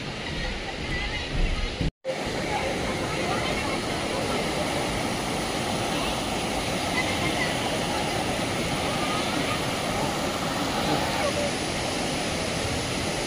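A waterfall at Bhandardara where two streams of water join and fall together, giving a loud, steady, close roar of rushing water with a brief cut near the start.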